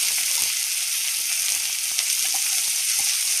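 Chicken masala ingredients sautéing in two spoons of hot oil, a steady dense sizzle throughout with faint stirring scrapes, close and fairly loud, no voices.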